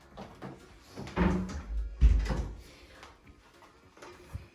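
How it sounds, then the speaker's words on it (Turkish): A door is pulled shut indoors, heard as a couple of close, dull knocks and a thud with some rustling movement around it and no talk. "Gel kapıyı kapatalım."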